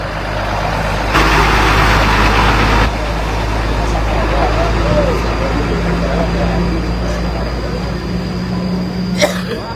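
A large eight-wheel truck rolls across the rebuilt Cikaleho bridge in Ciamis, a loud close diesel rumble with a heavier surge near the start, steady road noise, and a sharp knock near the end.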